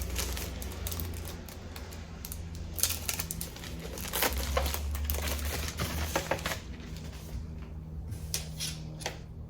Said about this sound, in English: And then I always tape the edges closed.